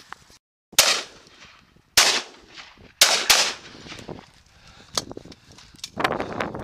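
Several shotgun shots fired as warning shots during a rough shooting outing, appearing as sharp, loud reports at irregular intervals with short echoing tails in open countryside.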